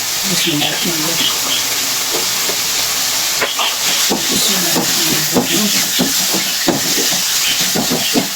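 Carrots added to a hot pan for a Pakistani mixed sabzi, giving a loud, steady sizzling hiss throughout, with someone talking over it.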